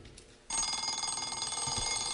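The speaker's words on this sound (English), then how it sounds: "and of course it's the sound of the alarm clock." An alarm clock rings out abruptly after a quiet moment, a loud, continuous metallic bell trill that keeps going without a break.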